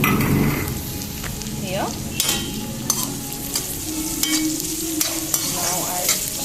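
Onions sautéing in a pan for Pindi chole, a steady close sizzle with repeated scraping and clinks of a spoon as they are stirred, and a brief word spoken near the start.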